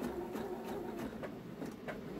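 A sewing machine stitches in the ditch along the seams of a pieced star quilt, a steady mechanical hum with rapid regular needle pulses, close and continuous.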